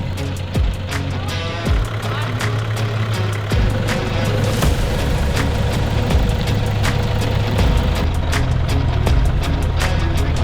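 A 4WD car is winched up a rutted off-road track while a heavy engine drones steadily nearby, with sharp clicks and knocks cutting through at irregular intervals.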